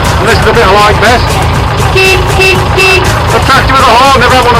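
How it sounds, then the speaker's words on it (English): A 1974 Leyland 255 farm tractor sounds its horn in a few short honks and one longer steady tone over a loud, close running engine. "A tractor with a horn, never had one of them before,"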